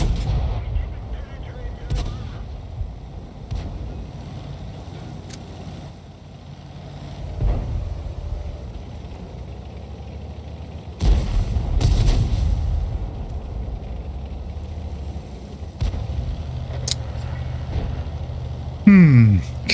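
Heavy tank cannon shots boom in a World of Tanks battle, several spaced blasts with rumbling engine noise between them, while someone talks over the action.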